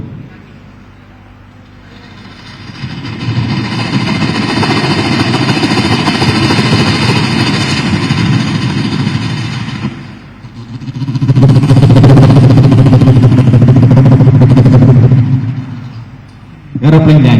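A performer at the Kerala school arts festival uses his voice to mimic an airplane landing. The sustained, loud, engine-like roar swells, dips briefly and then surges again before cutting off.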